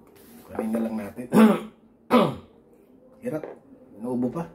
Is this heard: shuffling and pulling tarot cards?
no